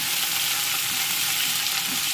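Half a kilo of ivy gourd (dondakaya) frying in a pan with salt, a constant loud hiss and sizzle of hot oil with faint scraping of stirring, no voices.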